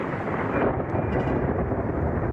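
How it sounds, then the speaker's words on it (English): Thunder snow from an Arizona winter storm rolls as a deep, continuous rumble, loud and steady throughout with no other sounds over it. "a rarely seen or heard winter weather phenomenon, thunder snow."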